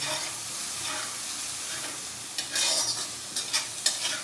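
Spring onion greens, carrot, green peas and tomato roasting over high gas in a pan for vermicelli upma, giving a steady broadband sizzle with sharper scraping stir bursts toward the end, close and alone.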